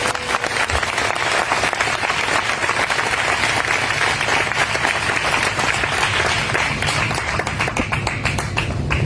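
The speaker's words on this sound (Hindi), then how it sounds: "आइए प्रभु के लिए अच्छी ताली बजाएंगे" A church congregation at a Bible study meeting claps enthusiastically. Many hands make a dense, steady patter that lasts several seconds without letting up.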